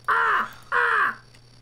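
Bird screaming as it is killed in the video game Robinson's Requiem: two loud, harsh crow-like caws, each about a third of a second, separated by a short gap, alone over a faint steady hum.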